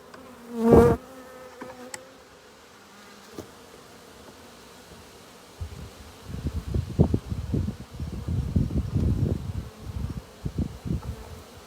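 Honey bees buzz close by on a hive frame in a dense, wavering hum that swells and fades, after a brief tap and quiet stretch at the start.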